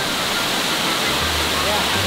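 Erawan Falls in Thailand roars with a steady, loud wash of falling water, filling the scene with unbroken rushing noise from nearby.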